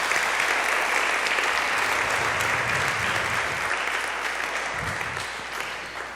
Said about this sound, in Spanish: Aplauda al Señor un momento,